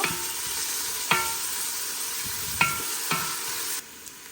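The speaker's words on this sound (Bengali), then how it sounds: "কিছুটা পেঁয়াজ দিয়েছি হালকা বেজে নিব" Onions for chicken biryani fry in a pan with a steady, close sizzle broken by several sharp spatula clacks and scrapes, before the hiss drops away abruptly near the end.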